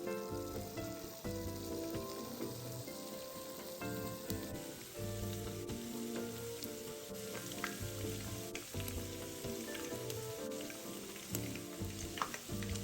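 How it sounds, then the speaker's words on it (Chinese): Chicken pieces deep-fry in medium-hot cooking oil, producing a dense, continuous bubbling sizzle that stays loud and even, with faint tonal background sound underneath. "再将备好的鸡肉放入油炸"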